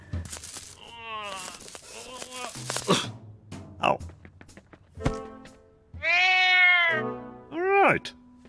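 A cartoon cat meows twice, long drawn-out wails loud and close, with earlier grunts and chatter from an animated character in a cold, frozen scene.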